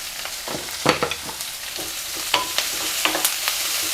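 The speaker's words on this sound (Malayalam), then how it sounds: "പച്ചമുളക് ചെറുതാക്കിയിട്ട് അരിഞ്ഞത് എല്ലാം കൂടി ചേർത്തിട്ട് ഒന്നങ്ങ് വഴറ്റി കൊടുക്കാം" Chopped garlic, ginger and green chili sauté with onion in a pan for egg rice, a close sizzle punctuated by quick rhythmic spatula scrapes and taps, with no talking.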